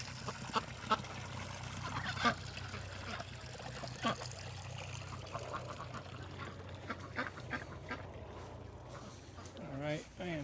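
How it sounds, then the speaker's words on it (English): Ducks on a pond give scattered quacks and honks over a soft trickle of water, while a person talks nearby through most of the stretch. "the ducks enjoying their pond"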